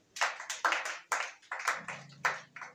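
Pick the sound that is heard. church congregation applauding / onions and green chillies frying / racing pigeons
church congregation applauding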